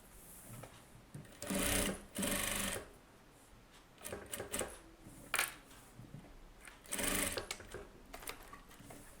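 A tailor's sewing machine stitches a close-neck blouse in several short, close bursts of rapid mechanical whirring, separated by quiet pauses and light handling noises.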